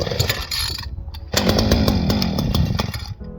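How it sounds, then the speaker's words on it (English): A small petrol engine with the choke on is pull-started; a rough buzzing run sputters, briefly cuts, then revs up loud and close in an uneven, chainsaw-like drone. "The trick is turning it on here, putting the choke on, giving it a couple of pulls"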